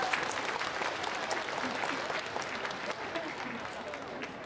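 An audience at the opening ceremony of the 56th Danjong Cultural Festival in Yeongwol claps in sustained, dense applause, with voices faintly mixed in.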